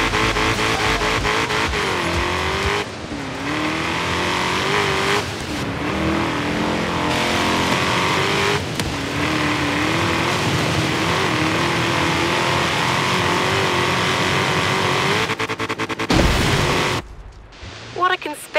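Car engine in Forza Horizon 3 drives continuously at close range, revving and shifting with steady loud drone, under game music and voices, cutting out near the end.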